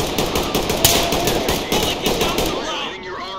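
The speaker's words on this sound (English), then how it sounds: "I definitely just heard a hostage got shot." Gunfire in the tactical shooter Ready or Not, rapid bursts of shots crackling close and loud for a few seconds before fading out.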